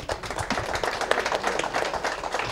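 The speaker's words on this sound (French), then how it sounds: "Je crois qu'effectivement, les applaudissements sont mérités" A group applauds at a gathering in Angers in February 2014, with many hands clapping close by in a busy, crackling patter of sharp individual claps that keeps going without a break.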